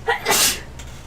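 A single sharp sneeze bursts out close and loud, rising quickly to a hissy peak before fading into quiet background noise, during a Final Fantasy XIV livestream.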